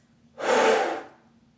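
One breathy, hissing inhale drawn through the knuckles, with a hollow suction quality, swelling and tapering over about a second, close and alone.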